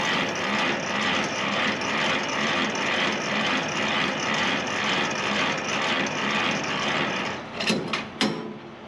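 Semi-trailer landing gear being cranked up at a drop-and-hook stop, heard as a continuous loud mechanical whir and rumble, with a few sharp clanks near the end, close and without talk.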